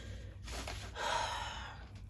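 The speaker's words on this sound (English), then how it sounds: "Excuse my sniffling." A person with rebound COVID sniffles, with a few close, soft nasal breaths and a longer inhale in the middle, heard alone without speech.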